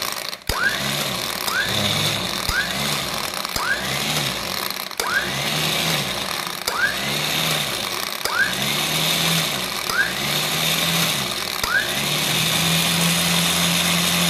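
A Black Horse X 13,000 lb, 6.5-ton 12 V electric winch with plasma rope pulls in a loud, close series of repeated whirring surges that rise and fall about every second, ending in a steadier sustained drone.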